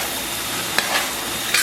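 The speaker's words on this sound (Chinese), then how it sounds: "炒香以后啊，咱们给里边烹点这个生抽" Pork and sauce fry in a hot pan right after soy sauce is added, giving a steady broadband sizzle with a couple of brief stirring scrapes on top.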